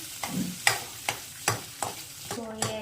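Cashews frying in about two spoons of butter with whole spices such as cinnamon, cardamom and cloves, stirred in a pan: roughly seven sharp spoon scrapes and clinks against the pan over a soft, steady sizzle, close and alone.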